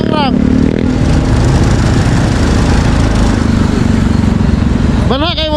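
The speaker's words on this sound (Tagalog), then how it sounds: "Banha kayo mo tambutso, sige grang." A motorcycle with a loud exhaust revs hard, a continuous rough, throbbing engine roar very close and loud throughout, with voices briefly audible at the start and end.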